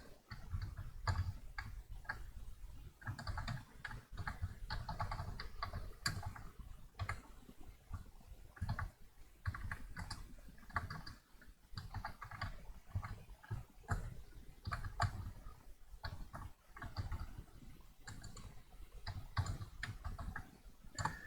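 Someone types on a computer keyboard while writing Julia code, producing faint, close, irregular clicking keystrokes in uneven bursts over a quiet background.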